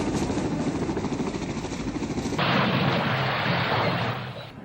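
A helicopter's loud rotor chop and engine roar fill the air continuously, shifting in tone partway through before easing off slightly, in South Vietnam in 1975.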